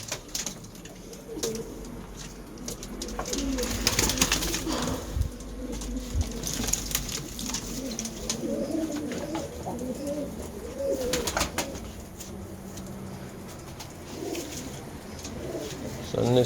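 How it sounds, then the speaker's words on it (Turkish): Pigeons in a breeding loft coo steadily in low, rolling phrases, several birds overlapping indoors, with occasional flutters and faint background talk. "Kuşları içeri kapattım."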